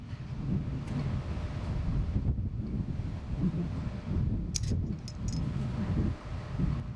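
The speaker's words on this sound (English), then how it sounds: "Let me let this wind calm down for a second." Strong wind buffeting a microphone at a lake while bass fishing, a loud continuous rumbling roar with gusts rising and falling, plus a few faint metallic jingles.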